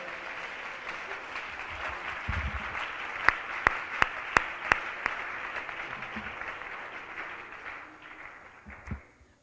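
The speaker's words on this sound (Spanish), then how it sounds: "mejórele ese aplauso si es para el Rey" A church congregation claps during a Spanish-language sermon, with moderate, fairly distant applause and a few loud, sharp claps near the microphone partway through.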